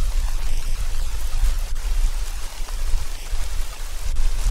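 Steady rain in a children's video game pours down, a dense even hiss with a low rumble beneath, continuous and fairly loud throughout.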